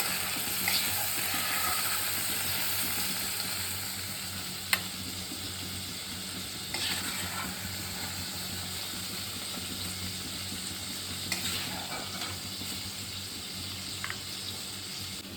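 Ingredients for a Bengali bhorta fry in hot oil in a pan, a steady hissing sizzle throughout with a few faint clicks and light stirring sounds, nobody speaking.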